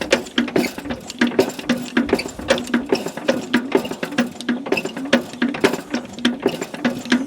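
An old engine, a vintage Allis, turns over steadily, giving a rapid, even mechanical clatter with regular clicking rhythm, close and fairly loud throughout with no talking.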